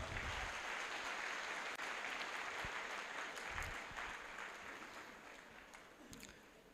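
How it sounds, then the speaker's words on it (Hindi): An audience claps for a man named Rakesh at a Safe Shop success-story gathering, a fairly faint, steady wash of applause that slowly fades over several seconds. "आ जाओ राकेश जी के लिए जोरदार तालियां"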